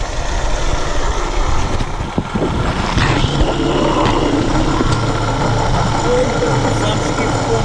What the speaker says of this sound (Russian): В общем, автомобиль работает и издает вот такие вот звуки.